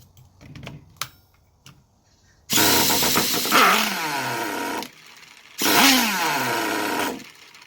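A Traxxas T-Maxx 2.5 nitro RC truck engine sputters briefly, then roars through two loud sustained throttle revs with a short drop between them, close and alone.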